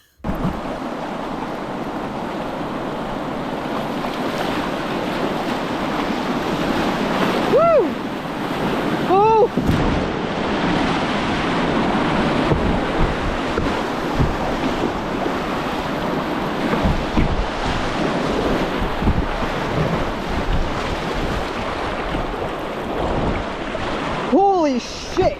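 Roaring whitewater rapids and crashing waves, loud and continuous, with wind buffeting the microphone and brief voices calling out over the rush of water.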